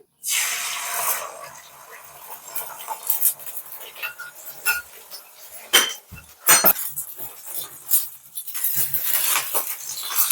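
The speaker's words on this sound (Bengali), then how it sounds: "ডিমটাকে আমি ছোট ছোট করে পিস পিস করে ঝুড়ি ঝুড়ি করে নিচ্ছি" Egg scrambled and broken into small bits in hot oil in a wok: a sizzle runs under repeated scraping and clinking of a metal spatula against the pan, with irregular sharp scrapes.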